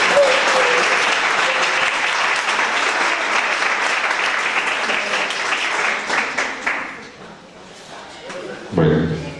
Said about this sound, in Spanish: denle un aplauso al Señor por la vida de Dios.